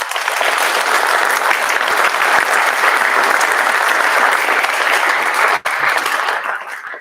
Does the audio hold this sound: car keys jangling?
no